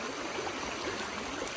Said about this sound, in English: A lot of rain, a lot of flowing water, which is good for sluicing.